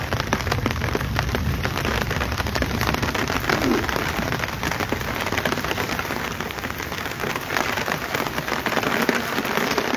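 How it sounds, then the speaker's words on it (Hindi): Heavy, steady rain pours down over the Ridge in Shimla, a dense continuous downpour hissing on surfaces for the whole stretch with no voices. "ये देख सकते हैं आप किस कदर झमाझम बारिश राजधानी शिमला में हो रही है।"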